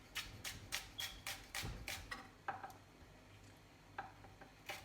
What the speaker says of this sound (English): these onions are for the meatballs. So I want to cut them really finely diced.